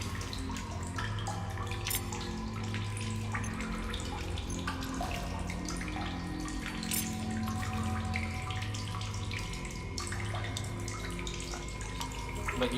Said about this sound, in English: we got a water source we can drink from